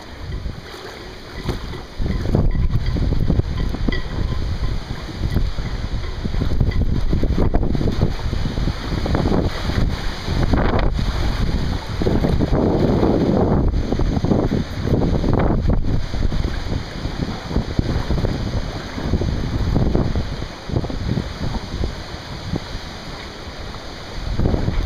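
Hurricane Irene's wind roars at a flooded marina, buffeting the microphone loudly and almost without pause, with water churning underneath for the whole stretch.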